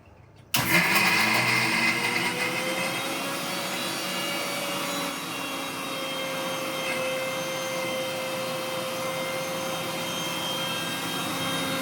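An electric grinder grinds whole spices (cumin, four cardamom pods and cloves) for an egg curry, starting abruptly and then running as a loud, steady motor whine with gritty rattling.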